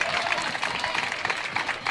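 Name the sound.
crowd cheering and applauding at pickleball match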